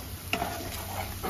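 A short burst of stirring and scraping as chopped green chilies and onions are mixed in a pan, with a soft sizzle underneath.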